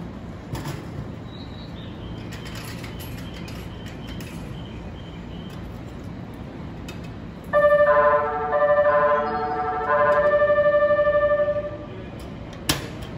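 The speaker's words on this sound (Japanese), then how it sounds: "8番線電車発車です。" Low rumbling ambient noise of a Japanese station as a limited express E257 series train departs, then a bright electronic departure melody horn plays in repeated phrases, ending with a short sharp sound.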